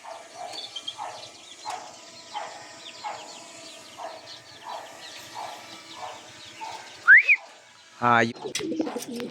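Pigeons from a racing loft coo in a steady run of soft, repeated calls, with a sudden burst of wing flapping near the end; all fairly close and moderately loud.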